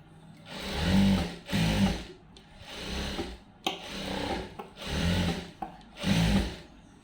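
A sewing machine stitches around the neck of a lined blouse in five or six loud, even bursts of whirring, each lasting about a second, with short pauses between them.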